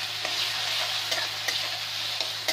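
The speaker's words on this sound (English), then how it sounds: "Fry this one till golden brown." Chole ingredients frying over a high flame until golden brown, a steady close sizzle with a few sharp clicks of stirring and scraping in the pan.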